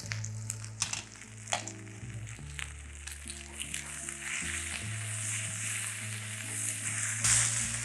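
Potatoes fry in a pan with a steady soft sizzle and occasional stirring clatters, close and fairly quiet, under a low continuous hum.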